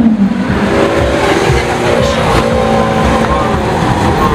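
Lamborghini Aventador S engine roaring loudly and steadily at close range, with voices and crowd noise mixed in.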